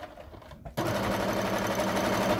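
A sewing machine stitching fabric and interfacing for a camera or guitar strap starts abruptly after a brief quiet moment, then runs at a steady fast whirring chatter, close and loud.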